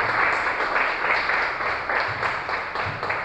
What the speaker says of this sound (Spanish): dale ese aplauso que hace rato te contuviste